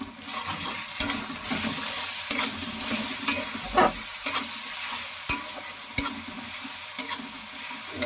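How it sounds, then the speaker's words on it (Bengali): Garlic paste added to browned frying onions in a pan while cooking a crab dish sizzles steadily, with sharp spatula scrapes and clacks of stirring at irregular intervals, close and clear with no talk. "তো ওই যে রসুন বাটাটা দিয়ে দেবো পুরোটা।"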